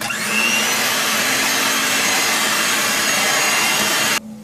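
An electric mixer beats a cold blueberry cheesecake mixture. It runs as a loud, steady whirring drone with a constant motor hum for about four seconds, then cuts off abruptly, with no talking.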